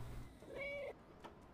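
A cat meowing in a video game, a single clear drawn-out meow at moderate level over faint background noise, followed by a soft chirp.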